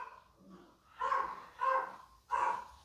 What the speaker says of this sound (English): Oh my God, I think my dogs are killing each other.